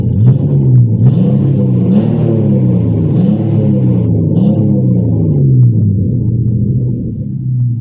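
A Chrysler 200C engine revs in repeated rising and falling sweeps, a loud close rumble with steady low harmonics that settles to idle near the end.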